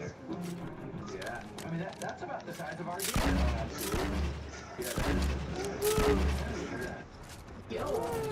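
Fortnite battle royale gunfire and explosive booms sound in bursts, several heavy blasts landing over a few seconds amid talking players.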